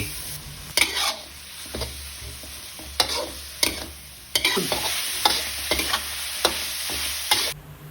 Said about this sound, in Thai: แล้วก็ผัดผัดคั่วคั่วให้เข้ากัน รอบนี้ให้หมูสุกเลยนะครับ